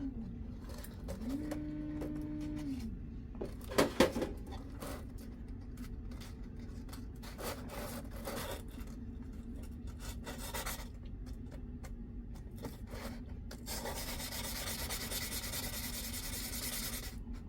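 Steady gritty rubbing and rasping of 320-grit sandpaper against a hard stone surface, continuous for most of the clip, with a few brief knocks near the start.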